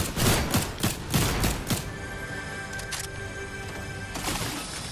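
Rapid bursts of gunfire in a balloon shooting video game, a quick string of sharp cracks at first, then a few isolated distant shots over a steady electronic hum.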